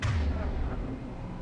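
A cannon in the video game Mass Effect 3 fires, a deep low boom at the start that rolls off into a fading rumble, moderately loud with no talk over it.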